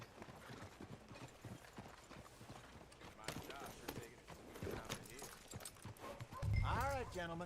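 Horses approach in the video game Red Dead Redemption 2, with steady clip-clop hoofbeats and a neigh near the end, heard under talk and game sounds.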